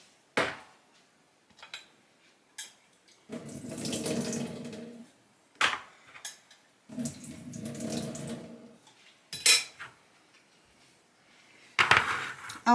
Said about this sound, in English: So I'm going to strain those right now.